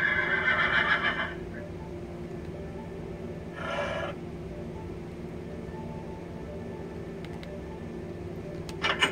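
A horse in Minecraft gives a brief whinny near the start and another short neigh around the middle, both fairly faint over a steady low background hum.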